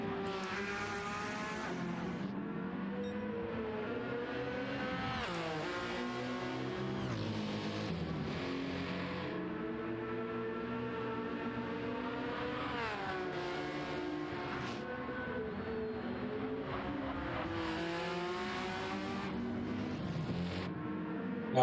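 Race car in 917 livery running in an NLS endurance race, its engine revving up and down through gear changes in a continuous, steady-level drone with no voices.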